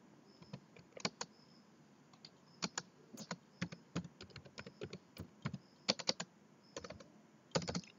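Computer keyboard typing, with sparse clicks then quick clustered bursts of keystrokes, quiet and close over a faint background hiss, with no voices.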